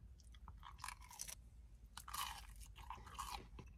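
Close, crunchy chewing of warm McDonald's chicken McNuggets, with several bursts of biting and mastication over a low background hum, no talking.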